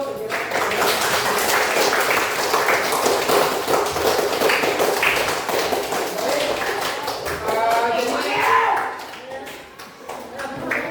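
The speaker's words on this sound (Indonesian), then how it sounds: "Saya kira tepuk tangan dulu untuk itu." Classroom of students applauding during a lesson, a quick patter of clapping mixed with taps and voices talking over it, fading as the noise settles toward the end.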